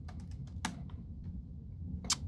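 Quick light taps on a computer keyboard, a short burst of several soft clicks followed by a couple of isolated keystrokes, faint and close.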